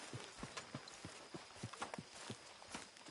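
Horse hooves clip-clop at a steady walking rhythm in the Red Dead Redemption II video game, a quiet, evenly spaced series of soft knocks over a low ambient backdrop.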